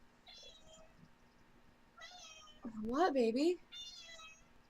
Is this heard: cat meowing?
yes